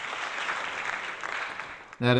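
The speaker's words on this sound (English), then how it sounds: "I'm gonna give it a clap on that" Soft applause from a small group runs steadily for about two seconds before a voice cuts in at the end.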